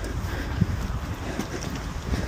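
Blustery wind buffets the microphone in low rumbling gusts, a steady roar with a few stronger thumps, no voices.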